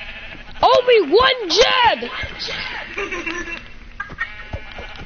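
Several wavering Minecraft sheep bleats in quick succession, loud and close, followed by a person speaking briefly.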